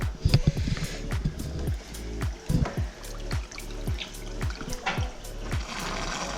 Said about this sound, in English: We got our hose running straight down the drain in the bathroom.